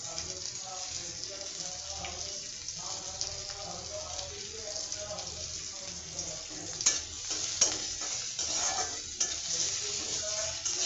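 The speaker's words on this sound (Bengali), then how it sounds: "এই পেঁয়াজটা ভাজা হলে এর মধ্যে মাংসটা আমি দিয়ে দিব" Onions frying in a pan for beef jhura, a soft steady sizzle with occasional stirring scrapes and louder crackles toward the end, heard close and alone.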